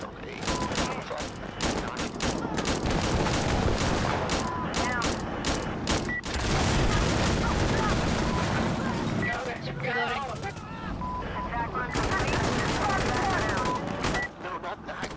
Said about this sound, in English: My gunship's killing so many things.